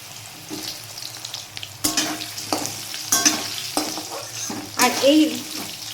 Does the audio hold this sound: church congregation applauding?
no